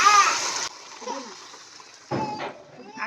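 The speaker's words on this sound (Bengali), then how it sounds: "এই গরম জলটা এবার আমি ঢেলে দেবো এর ভেতরে" Hot water poured into a pot of mutton curry with potatoes, a short loud splash at the start, then a second pouring gush later, with a voice talking faintly between them.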